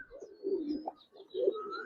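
Giribaz pigeons coo in low, rolling phrases, two main swells of throaty cooing close by with faint higher chirps over them, no talk.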